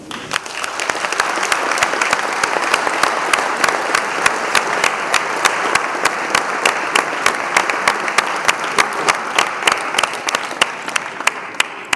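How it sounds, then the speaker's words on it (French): Municipal staff applaud at a mayor's New Year reception in Tournai, a sustained, even round of clapping from a large indoor crowd that holds steady for the full length, with sharp individual claps standing out toward the end. "Et je vous demande de les applaudir."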